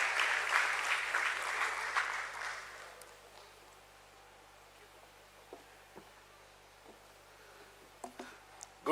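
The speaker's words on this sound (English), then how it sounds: "Let's have a huge round of applause for sir, please" A crowd at a listing ceremony at the Bombay Stock Exchange claps to welcome a speaker onstage, a dense burst of applause for about three seconds that fades into a quiet hall with a few faint knocks.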